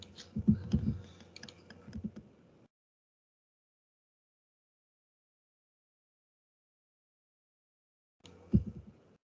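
Marks being typed on a computer keyboard in a spreadsheet table: a quick cluster of close key clicks, a long silent gap, then a shorter burst of keystrokes, with no talking.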